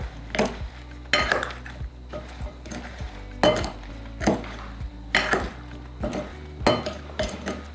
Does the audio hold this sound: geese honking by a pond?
no